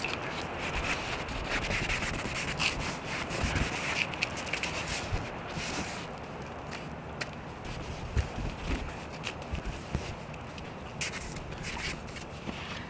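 Steady, close rubbing and scrubbing as moldy rubber car trim is polished by hand, a soft continuous friction sound with small irregular scuffs throughout.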